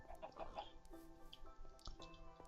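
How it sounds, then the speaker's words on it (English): Minecraft chickens cluck in short, soft bursts, a few brief calls scattered quietly over a faint game background with no talking. "Oh, more chickens."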